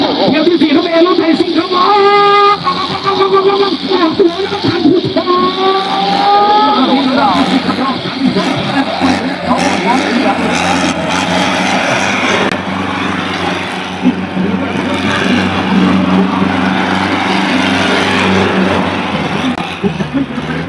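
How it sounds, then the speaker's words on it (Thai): Kubota tractor engines roar at a tractor competition, a loud continuous engine drone with rising and falling tones, mixed with crowd noise and a voice talking over a loudspeaker. "เดี๋ยวค่อยฟังครับจะมีเสียงเครื่องยนต์ดังกันทุกครับ"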